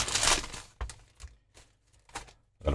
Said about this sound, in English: let's open the incredibly tough seal